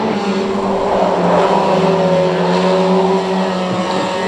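Pro stock race cars lap the oval at Cowdenbeath Racewall, a steady loud engine roar with sustained harmonic drone and crowd-wide ambience, no talking over it.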